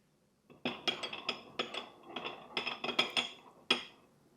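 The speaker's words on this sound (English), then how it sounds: "And then give it a stir" A spoon clinks rapidly against a small glass or ceramic dish while stirring olive oil bread dip with salt and pepper, a close run of light taps and rings, quiet and alone.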